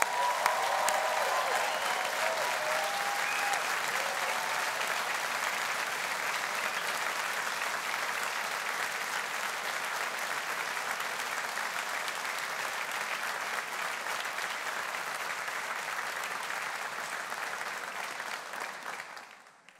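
A graduation ceremony audience applauds in a sustained, dense round of clapping from a large crowd, steady and moderately loud before fading out at the end.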